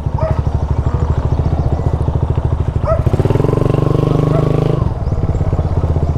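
Motorcycle engines at the Taytay Falls motorcycle parking chug in a steady, close, rapid thumping idle, with one engine revving up louder for a couple of seconds before settling back down.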